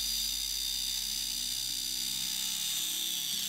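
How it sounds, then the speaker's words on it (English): Dremel rotary tool drilling and widening a hole in a doll body, a steady high-pitched whine with a low motor hum running continuously and fairly faint throughout. "I'm drilling a hole into Musa's body and make it bigger with my Dremel"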